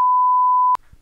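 A single sharp censor bleep, one steady tone lasting under a second over a word in a podcast interview, cutting off abruptly into near silence.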